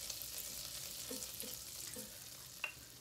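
Butter with olive or coconut oil heating in a pan gives a faint, steady sizzling hiss with a few soft clicks and pops, heard alone.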